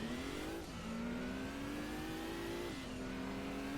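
A race car engine in the video game Gran Turismo 2 drones at steady revs on the Smokey Mountain South track, dipping briefly twice as gears shift, a sustained buzzing tone heard alone.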